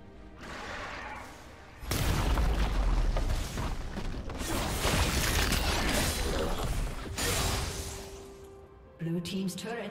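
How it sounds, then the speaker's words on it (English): Turret collapsing in League of Legends as a loud, sustained crash of explosive rumble and crumbling debris, followed by quieter game effects and a voice. "Red team's turret has been destroyed."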